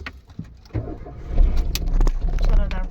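A car engine cranks and catches, then rumbles on steadily and fairly close, with a few clicks and light jangling at the start.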